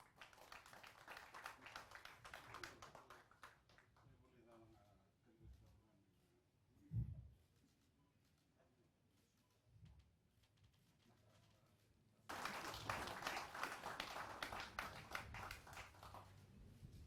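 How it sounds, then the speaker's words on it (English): Applause at a Fiji Corrections Services vocational school ceremony officiated by the Prime Minister: a dense burst of clapping, then a quieter lull with a couple of dull thumps, then a second loud round of applause rising sharply and holding to the end. "Please, let's give him another big round of applause."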